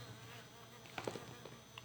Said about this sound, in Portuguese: Ó, a abelha aí de novo.